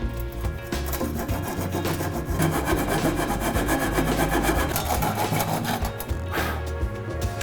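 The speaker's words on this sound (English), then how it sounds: "I think what we're gonna have to do is actually saw it. So I've got good old Japanese saw here." A Japanese pull saw rasps through wood in quick, steady back-and-forth strokes, close and continuous, cutting apart a piece of a DIY home studio gear rack.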